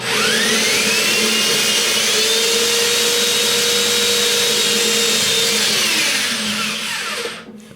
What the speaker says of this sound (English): we're gonna just pick one of the corners, one of the rear corners to drill in